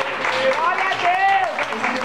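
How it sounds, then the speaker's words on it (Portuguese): Church congregation applauding during a Brazilian Portuguese healing service, a dense wash of clapping with music or a sustained voice tone running through it, fairly loud and steady for the whole moment. "A igreja pode aplaudir a Jesus?"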